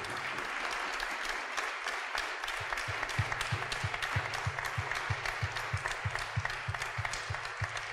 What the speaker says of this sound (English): Give them a round of applause into yourself as well.